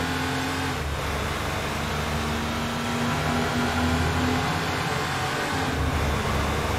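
A Porsche's engine drones steadily while racing in Need for Speed: Porsche Unleashed, in the Classic 911 Cup, with a constant hum and a slight rise in pitch partway through.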